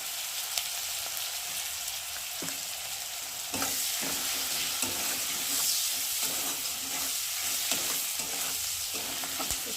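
Onion and green chilli fry in hot oil with a constant sizzle, broken by repeated scraping stirs of the spoon; the hiss grows louder partway through and stays close.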